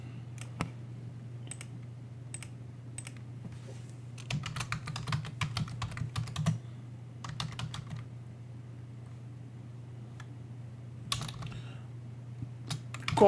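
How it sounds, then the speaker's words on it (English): Clicky keystrokes on a computer keyboard come in scattered taps and short fast bursts of typing, close and clear over a low steady electrical hum. "I'm going to type yes."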